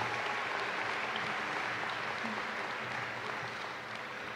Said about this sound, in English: Let's give one more round of applause for our families.